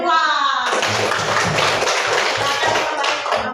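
Primary-school children clap in a classroom for a group that has just presented. A spoken voice comes first, then energetic, rhythmic clapping close by with a steady beat, mixed with shuffling and small thumps.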